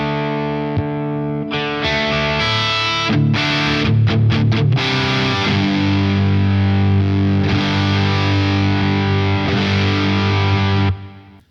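Electric guitar played through a Crazy Tube Circuits Super Conductor boost pedal running at 18 volts, with a few picked notes and a quick strummed flurry, then a long sustained chord ringing loud and bright before cutting off.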